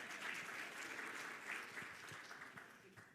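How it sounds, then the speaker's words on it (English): Audience applause fills a live talk on real estate wholesaling strategies, a steady crackle of many hands clapping at moderate distance throughout, with a faint voice or two underneath. "Y'all clap it up."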